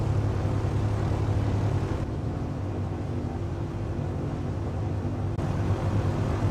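A small airplane taxis in Microsoft Flight Simulator X, a steady low engine drone and propeller hum that stays constant and close for several seconds with no talk.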